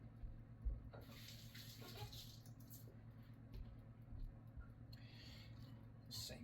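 Kitchen tap water running quietly as a hand is wet at the sink, a faint steady trickle and splash with some low background hum.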